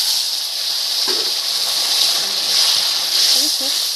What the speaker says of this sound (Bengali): এই যে আমি ঝোলটা করেছি সেটা আমি এবার ঢেলে দেবো